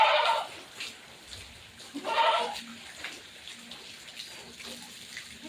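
Water splashes and runs in bursts while a goat is bathed, pouring intermittently close by with quieter gaps of dripping in between, and a faint voice or bleat briefly heard under it.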